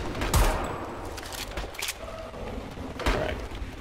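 Gunfire in the video game Homefront: The Revolution, with two loud sharp bursts of shots about three seconds apart over a dense, rumbling battle ambience, no talk.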